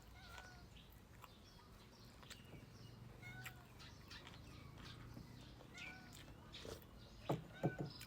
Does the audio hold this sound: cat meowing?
yes